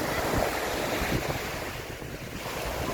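Waves wash ashore on Lake Huron at Canatara Beach in Sarnia, Canada, as a continuous surf rush mixed with gusty wind buffeting the microphone.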